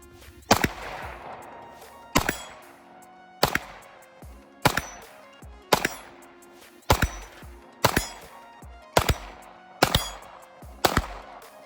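Walther PDP Compact 9mm pistol shots fired outdoors in a slow, steady string of about nine loud, sharp cracks, each followed by a short echoing tail.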